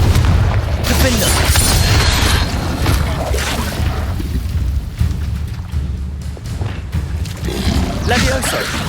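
A video game combat scene with magic spells, including Levioso and Confringo, sets off repeated booming blasts and crackling bursts, while a voice calls out spell names over the rumbling din.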